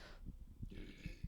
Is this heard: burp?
yes